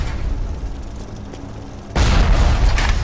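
A rocket launcher explosion in BioShock: after a low rumbling stretch, a loud booming blast hits about halfway through and its heavy roar carries on to the end, with no talk over it.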